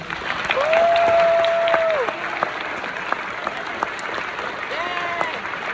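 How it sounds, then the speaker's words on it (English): Applause from an audience at a Spanish honor society ceremony for honored members, a steady wash of clapping with a sustained tone and brief voices over it. "One more round of applause for these members"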